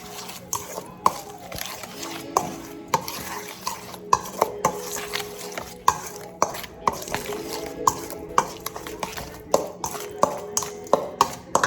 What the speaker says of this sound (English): And then you can mix it all together.